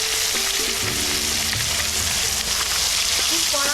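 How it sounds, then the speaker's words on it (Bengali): Fish pieces coated in salt and turmeric fry in hot oil, a loud, dense, close sizzle that holds steady throughout, with light splattering. "তেল গরম হয়ে গেছে, এবার আমি এই নুন হলুদ মাখানো মাছগুলো একে একে দিয়ে দেব।"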